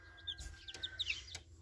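High, thin peeping chirps from young chicks, including a large week-old Maran-cross chick, scattered in quick irregular calls over faint background noise with a couple of sharp knocks.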